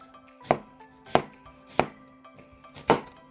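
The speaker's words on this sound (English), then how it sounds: "Now cut 1/2 medium white onion into thick slices." A knife cuts half a medium white onion into thick slices on a board, four distinct thunking chops at uneven intervals, close and clear.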